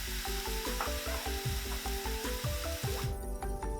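Zucchini sizzles in oil in a pan for a vegan Korean bibimbap, a steady frying hiss with clinking, scraping utensil taps against the pan in an irregular rhythm.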